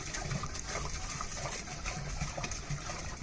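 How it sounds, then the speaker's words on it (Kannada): Continuous sloshing and swishing of water as cow urine, cow dung and turmeric are stirred together for cleaning a site, steady and moderately close with no talking. "ಗಂಜಲ ಸಗಣಿ ಅರಿಶಿನ ಮಿಕ್ಸ್ ಮಾಡ್ತಾ ಇದ್ದೀವಿ"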